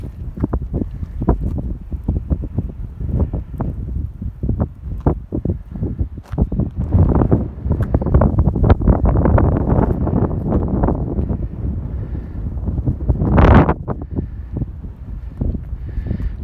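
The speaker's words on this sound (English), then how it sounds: "So it's a windy old day anyway." Strong wind buffets the microphone in gusts while riding a 1980 Gazelle Solide three-speed Dutch bicycle, rumbling low and rising and falling throughout, with a brief sharper whoosh near the end.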